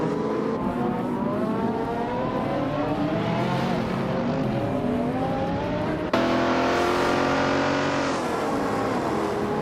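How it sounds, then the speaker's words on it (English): Race cars roaring through a racing video game, several engines revving and shifting pitch as they accelerate and pass, loud and continuous with a sudden jump in intensity midway. "Gravy Graves is climbing fast, now in 10th after overtaking 3 cars"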